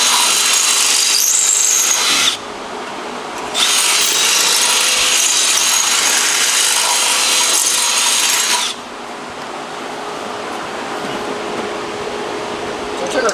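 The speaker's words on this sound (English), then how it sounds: "Potentially a little bit larger drill bit." Power drill fitted with a larger bit, worked during rear-end fabrication on a 2000 hp Corvette Z06, grinding loudly in two long bursts with a brief dip between, then a softer steady whir to the end.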